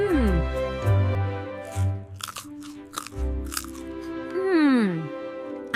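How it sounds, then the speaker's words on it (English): Someone chews a crunchy winter snack, with brief crackling bites and crunches breaking through a voice speaking slowly over most of the moment. "I am chewing slowly."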